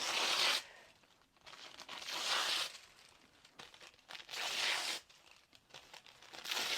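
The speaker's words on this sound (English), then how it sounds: "If it fights you, tear it in the other direction." Sheets of newsprint and paper torn by hand for a collage, several long ripping bursts with short pauses between them, close and fairly loud, no talking.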